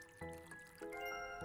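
Water poured for a cat in the Animal Shelter video game, a brief liquid trickle and fill sound over steady game music, with no talking.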